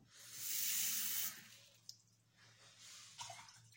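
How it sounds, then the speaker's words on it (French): Water is poured from a tap onto red lentils for cooking, a close hissing stream for about a second, followed by quieter sloshing, a clink and brief trickles. "je rajoute aux lentilles corail 3 fois le volume d'eau"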